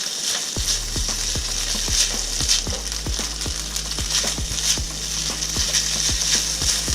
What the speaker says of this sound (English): you're really going to want to stir that rice so it doesn't burn onto the pan